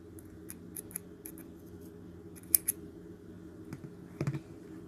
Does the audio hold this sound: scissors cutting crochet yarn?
yes